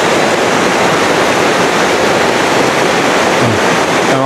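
A strong current of water rushes steadily at a farm resort in Palawan during rain, a loud, dense, unbroken roar heard up close with no pauses.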